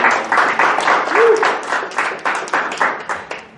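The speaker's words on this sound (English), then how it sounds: "big, huge round of applause to Ari so far." Seminar audience claps for a presenter at a technical analysis talk in Seoul, a modest group producing rhythmic, bursting waves of applause close by that gradually loosen and ease off.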